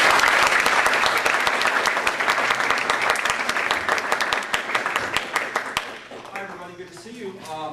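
An audience in a hall welcoming a presenter at a mathematics teachers' puzzle presentation: loud, sustained clapping that gradually thins and fades over several seconds, with a voice starting to speak as the applause dies down.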